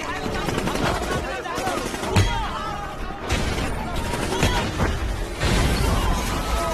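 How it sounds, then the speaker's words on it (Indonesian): Machine gun and mortar fire in a film action scene: dense bursts of rapid shots and heavy impacts crack out close and loud, with a voice talking over the gunfire. "mereka pun melakukan perlawanan dengan menembakkan mortir dan senapan mesin"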